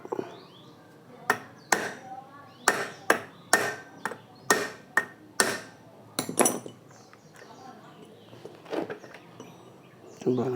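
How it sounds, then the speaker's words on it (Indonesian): Sharp metallic hammer taps on a nail held against a kids' bicycle rear sprocket, roughly a dozen close, ringing strikes in an uneven rhythm, then softer, scattered knocks trailing off. "Ini ya, kita getok pakai paku."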